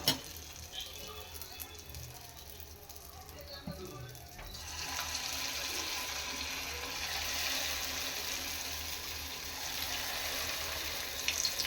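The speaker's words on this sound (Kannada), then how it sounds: "ನೋಡಿ ಕಾದಿದೆ ಎಣ್ಣೆ, ಇವಾಗ ಬಿಡೋಣ." Goli bajji batter dropped into hot oil, breaking into a steady, loud, close sizzle of frying that fills the pan, with a faint voice early on.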